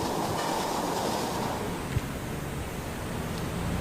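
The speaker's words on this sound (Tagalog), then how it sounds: "napansin namin na tuloy-tuloy naman ang operasyon at marami ng tren ang bumabiyahe" An MRT train runs along the rails in Manila between Shaw Boulevard and Taft Avenue, a continuous loud rumble with faint clickety-clack close by and no voices.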